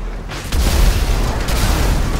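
Rockets fired from a car-mounted launcher in a modded GTA 5 explode in a loud, broad boom that bursts in after a brief lull and rumbles on heavily to the end.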